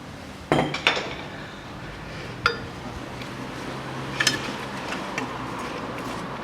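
New brake pads clink and clatter against metal parts during a rear left wheel hub replacement on a Toyota Vitz SCP10, with a few sharp knocks and lighter taps spread over quiet workshop background.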